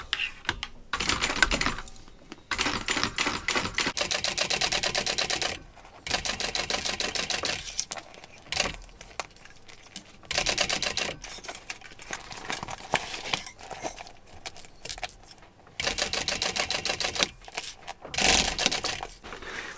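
A sewing machine bastes a seam on a bucket bag, running in fast mechanical bursts with short pauses between them, close and clear, with no talking.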